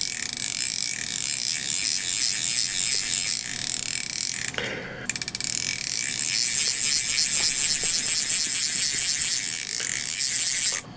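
Baitcasting fishing reel drag fitted with three carbon drag pads, giving a fast, smooth, continuous ratcheting click when the line is pulled. The clicking is loud and close, with one brief pause midway.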